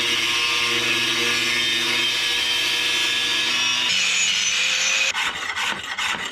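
An angle grinder cutting during a garage winch upgrade gives a steady, close, loud whine that shifts pitch partway through, then breaks into pulsing, interrupted bursts toward the end.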